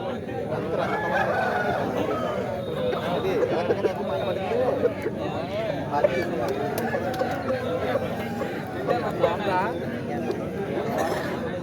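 Country roosters crow amid a busy Saturday country-chicken market, their calls rising over constant crowd chatter and bargaining voices, with clucking fowl nearby.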